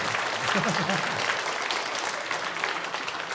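Renewed clapping fills a church during a Sunday service as the congregation welcomes visitors, a dense, steady round of applause with a voice speaking over it.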